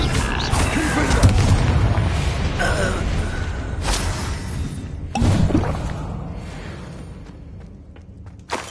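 Confringo blasting spell explosion in the Hogwarts Legacy video game: a heavy, booming blast with a deep roaring rumble, followed by a second sharp impact burst that decays slowly, amid fighting noise and game effects.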